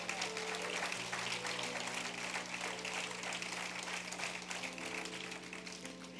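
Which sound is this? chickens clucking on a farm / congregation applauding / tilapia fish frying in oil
congregation applauding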